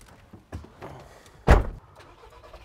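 A VW Caddy with a DSG automatic gearbox pulls away, its engine note rising and falling through short bursts, with one loud thump near the middle and quieter mechanical clunks around it.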